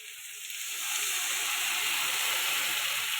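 Chili powder and spices frying in a pan for a fish curry, a soft steady hiss of sizzling that swells after the first second and holds evenly, no voices.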